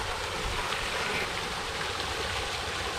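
Water pumped by a motor flows into a fish pond with a steady, unbroken rushing and gushing that stays at an even level throughout.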